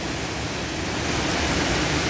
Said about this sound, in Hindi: तो ये दिखाते हैं हम आपको झरना।